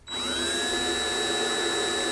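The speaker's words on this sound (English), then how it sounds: "Me drilling into a D-45." Power drill boring holes into the fretboard of a Martin D-45 acoustic guitar, a steady high-pitched whine starting abruptly and running unbroken for about two seconds, close and alone.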